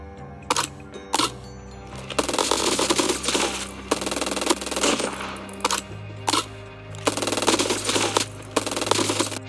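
Hipfire gunfire from Call of Duty Mobile comes in rapid automatic bursts and single shots, separated by short pauses, loud and close with no talking.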